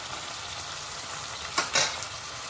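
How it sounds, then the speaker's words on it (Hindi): Chicken pieces frying in hot oil for methi chicken, a steady close sizzle with a brief louder crackling burst near the end as the pan is stirred or pieces shift. "चिकन को हमें अभी तलना है"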